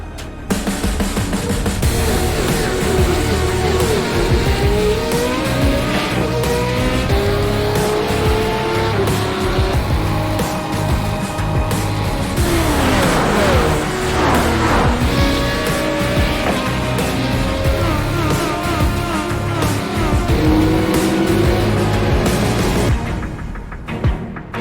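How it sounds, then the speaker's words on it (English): Race cars in the iRacing esports sim racing game, an Australian GT race at Montreal, roar loudly and continuously with rising and falling engine pitch, gear shifts and brief tire squeal as cars pass, no talk. "This is the original esport racing game. This is iRacing."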